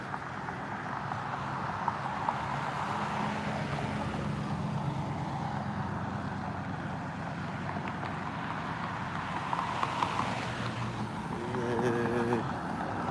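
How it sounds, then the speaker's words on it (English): A white truck's engine rumbles past on a road, a steady broad roar that swells slightly near the end. "I hear an engine sound behind me right as that white truck drives by me."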